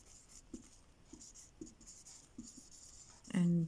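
A pen scratches out a word by hand in short, quiet strokes, a faint scribbling rhythm with brief taps, followed by a louder thump at the end.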